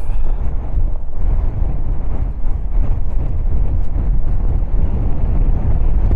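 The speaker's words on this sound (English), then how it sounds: "it's a windy day up here. It's about gale force winds" Strong, steady gale-force wind roars and buffets continuously across the whole stretch on a hilltop ridge in Aberdeenshire, Scotland, loud and close with no pauses or voices.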